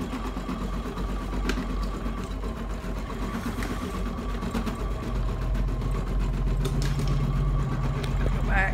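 An embroidery machine stitches a pillow pocket panel in a hoop, a steady rapid mechanical whirring and clatter that runs continuously throughout, close and moderately loud.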